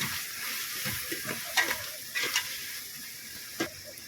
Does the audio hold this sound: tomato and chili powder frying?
yes